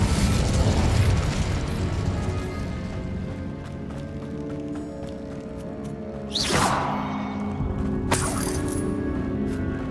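A fire spell cast in the video game Hogwarts Legacy: a sharp, bright whooshing burst erupts over a steady bed of game music, followed a moment later by a second, shorter flare.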